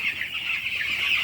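A crowd of broiler chickens on a farm clucking and chattering in a continuous faint murmur.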